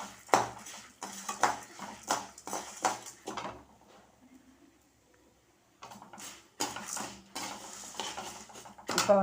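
Chana dal and chillies are dry-roasted in a pan, with repeated scraping and clattering strokes of a utensil against metal up close, a quieter pause in the middle, then the stirring resumes.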